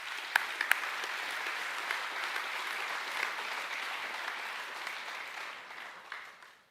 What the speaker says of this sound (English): Can we give all those people a round of applause,